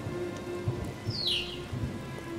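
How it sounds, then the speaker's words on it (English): Steady rain patters in the background where a blue-tailed bee-eater digs its nest, with a few soft drips and a brief high bird call partway through. "This bee eater keeps toiling in the rain."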